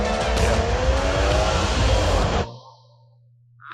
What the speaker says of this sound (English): Nice little drift there.